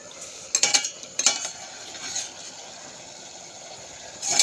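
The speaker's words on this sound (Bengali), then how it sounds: "ঢাকনাটা খুলে দেখি কতটা কি হলো" A few clinks and knocks from a cooking pot lid being lifted and handled while vegetables cook for a curry, with quiet background hiss between the brief sounds.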